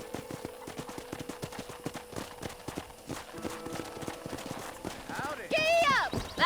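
Rapid rhythmic hoofbeats of a galloping horse in the video game Red Dead Redemption over a steady backdrop, ending with a loud whinny.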